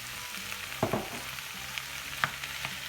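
Chopped tomatoes go into a pan of tomato puree sauce, giving a soft, steady sizzle broken by a few clacks and scrapes of stirring, quiet and close, with no talking.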